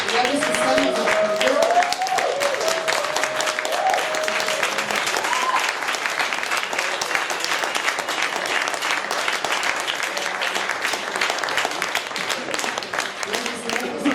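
A theatre audience applauding after a performance of Hinkemann, sustained dense clapping throughout, with a voice speaking over it near the start.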